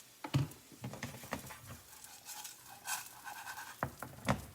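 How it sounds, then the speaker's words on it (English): Rice being stirred with cumin seeds and onions in a pan, heard as faint, soft scraping and light patter of grains with scattered small clicks, close but quiet, with no talking. "Mix around your rice with your basically cumin seeds, onions, till everything is nicely coated."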